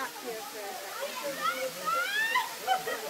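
A waterfall near a campground rushes with a soft, steady hiss in the middle distance while a person talks over it and faint voices carry nearby.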